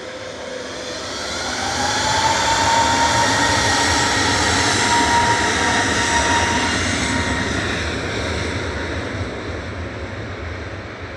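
A plane passes over near Manchester Airport, a broad engine roar swelling after about two seconds, holding loud, then slowly fading, with a steady rushing wash throughout and no talk.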